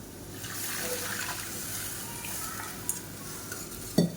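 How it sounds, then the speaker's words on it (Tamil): Tamarind water poured into a pan of sautéed onions and red chillies sizzles and bubbles steadily at close range, with light stirring and a sharp clink of a utensil near the end. "இப்போ இதில் சும்மா ஒரு 2 டேபிள் ஸ்பூன் அளவுக்கு புளி தண்ணி சேர்த்துக்கலாம்"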